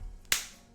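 A single sharp hand clap, close and crisp, ringing out once and fading quickly into a quiet room.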